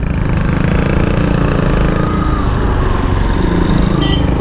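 A 2022 Yamaha FZ-S FI V3 Deluxe motorcycle engine drones steadily and loud while being ridden, a continuous close rumble with wind noise and no clear break for a gear change.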